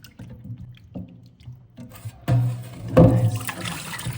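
Tap water runs and splashes while smoked neck bones are rinsed for a pig feet dish, starting with faint drips and knocks, then swelling into a louder steady gush partway through.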